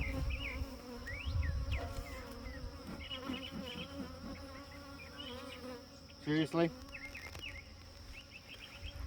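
Honeybees buzzing at a hive being tended during feeding, a steady close hum of many insects with a louder burst near the end, and a brief spoken word over it.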